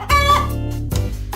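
Chicken clucking close and loud, a drawn-out tonal call followed by a couple of shorter clucks, heard alone without talk.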